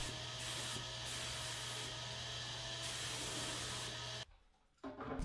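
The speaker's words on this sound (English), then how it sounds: "it is out into the quote-unquote spray booth again to put the coats of top coat on" A spray gun hisses steadily as top coat finish goes onto cabinets in a makeshift spray booth, a continuous close hiss with brief pulses, then it cuts off near the end.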